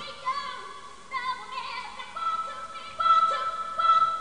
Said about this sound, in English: We can take this sample and higher the pitch